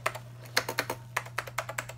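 Keys clatter on a Macintosh Performa 600 computer keyboard in a run of about a dozen quick, close, uneven clicks, with a steady low electrical hum underneath.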